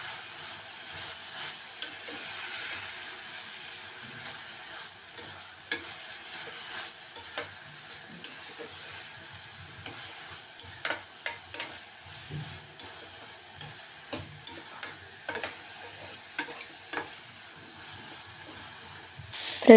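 Chicken recipe ingredients dry-fry in a pan: a soft, continuous sizzle and hiss runs under frequent small taps and scrapes of stirring, close and moderate in volume, with no talking.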